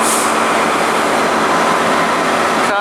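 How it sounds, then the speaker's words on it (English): A Class 165 diesel train pulls out of Reading station bound for Paddington, a loud, steady rumble and rolling rush filling the platform throughout, with nobody talking. "Now departing is 165 bound for Paddington."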